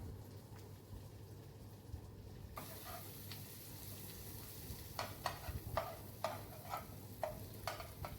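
Three chopped tomatoes fry in a pan with a constant close sizzle, and sharp scraping clicks of stirring repeat at a regular pace through the second half.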